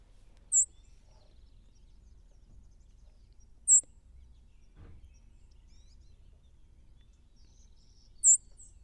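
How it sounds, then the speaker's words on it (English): A white-throated sparrow gives its call rather than its song: three short, sharp, high chirps spaced several seconds apart, faint and distant over quiet background. "we have a white-throated sparrow call."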